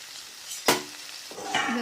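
A covered pan is opened and the potato filling for bhaja puli pitha is stirred as it sizzles, with one sharp metallic clank followed by a soft, steady frying hiss and the scrape of a spoon.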